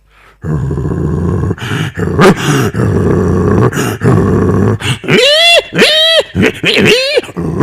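A voice imitates a pig, producing rough, guttural grunts and squeals in a quick series, with the loudest, most squeal-like bursts coming near the end.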